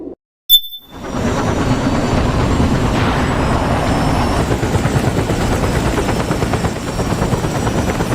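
A helicopter in the video game Metal Gear Solid 4 roars up after a brief silence, its dense rotor chop thudding loud and continuous with a sustained engine whine throughout.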